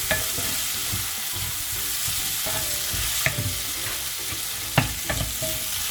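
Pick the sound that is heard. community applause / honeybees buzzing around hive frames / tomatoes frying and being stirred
tomatoes frying and being stirred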